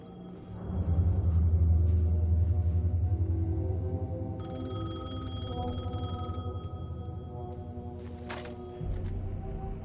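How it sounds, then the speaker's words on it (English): A payphone rings in Alan Wake II, a steady electronic trill over a low droning rumble, with a brief high metallic burst near the end. "The payphone was ringing."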